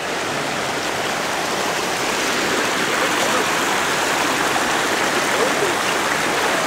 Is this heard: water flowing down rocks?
yes